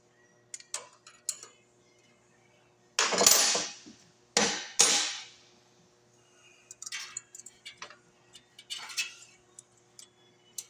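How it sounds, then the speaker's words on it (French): Valve adjuster nuts on a Honda GX160 engine are loosened with a wrench, giving scattered close metallic ticks and clicks, a couple of sharper louder scrapes, and quiet gaps between. "Donc on va lousser nos écrous pour faire l'ajustement."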